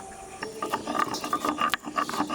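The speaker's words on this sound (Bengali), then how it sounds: "রসুন আর আদাটাকে ভালো করে বেটে নেবো" Garlic and ginger are ground by hand on a stone slab, a rhythmic run of gritty scraping strokes and short rasping grinds, close and fairly loud, with no voices.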